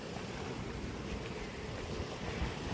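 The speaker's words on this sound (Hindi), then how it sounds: "और पानी की इस तरह जो ना आवाज़ें आती रहती हैं यहाँ से।" Open-sea waves wash in a constant dense roar, mixed with gusting wind buffeting the microphone, steady and unbroken with no voices.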